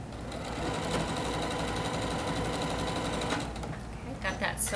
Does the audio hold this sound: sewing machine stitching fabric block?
yes